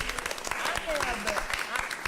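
Members of a public library board give a short round of applause for a retiring colleague in a meeting room, with moderate clapping under overlapping talk.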